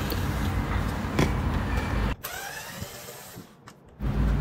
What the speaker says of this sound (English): remove the screws that secure the bottom plastic cover